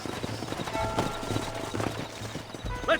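Hooves clip-clop steadily as horses walk in the Western video game Red Dead Redemption, moderately close, with a brief snort or whinny near the end.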